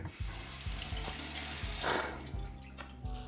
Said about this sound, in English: Let's like rinse this off before we use it.